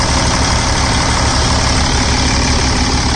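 A Freightliner Century truck's diesel engine idles close by, a loud, steady low rumble with a dense, even clatter and no change in pace.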